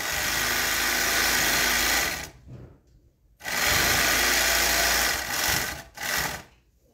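A semi-industrial overlock sewing machine with its thread tension set tight runs in two long, steady, whirring bursts, then a brief final spurt, with quiet pauses between and no talk.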